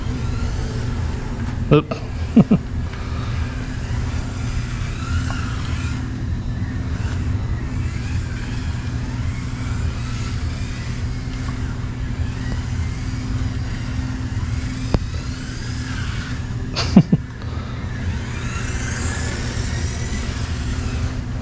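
A Kyosho Mazda 787B Mini-Z RC racecar runs steadily, a continuous motor hum and drone for the whole stretch with a few sharp clicks and knocks along the way and a brief spoken exclamation.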